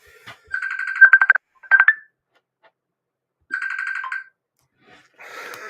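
A mobile phone ringtone plays loud and close, a bright trilling melody in two bursts separated by a short pause, followed by a faint electronic tone.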